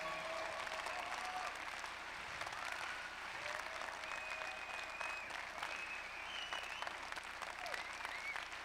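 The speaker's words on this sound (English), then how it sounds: "Clap your hands like we're catching something today." An audience claps hands at a motivational conference, a steady, dense applause at moderate distance with a few faint whistles or voices mixed in.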